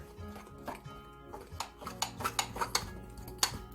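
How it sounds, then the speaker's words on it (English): A spoon stirs chocolate cake batter with vanilla in a bowl, producing faint, quick clinks and scraping taps against the bowl in an irregular rhythm, close and quiet. "1/4 a teaspoon of vanilla. And you mix that up."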